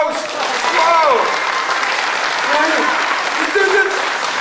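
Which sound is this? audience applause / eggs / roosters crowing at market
audience applause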